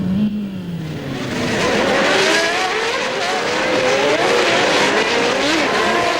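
Formula 1 cars from the 1993 season racing, with loud high-pitched engine whine rising and falling continuously as cars pass and accelerate, occasional tire squeal, no talk over it.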